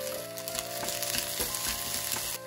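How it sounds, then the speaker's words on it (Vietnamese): Rice frying in a hot pan after shallots are sizzled in oil, with frozen mixed vegetables: a steady dense crackling sizzle throughout, with occasional scraping stirs and no talking. "đợi chảo nóng phi hành tím cho thơm rồi đổ cơm vào chiên"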